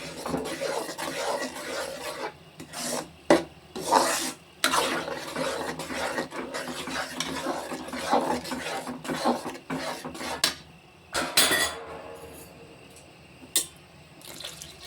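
Flour and water batter for urad dal kali is stirred by hand in a vessel, wet sloshing and scraping in irregular bursts with occasional clinks, fairly close and moderately quiet.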